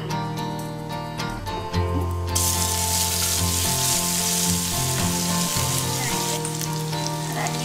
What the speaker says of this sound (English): now I've taken 2 spoons of oil. Now to this I'll be adding this whole spices.